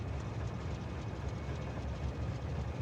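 A slow-moving freight train in the video game Factorio, heard as a steady low rumble with a continuous mechanical drone, constant in level and without talk.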